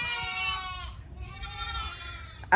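Newborn lambs and ewes on a sheep farm during lambing season. Two wavering bleats follow each other, then a sharp sound cuts off the end.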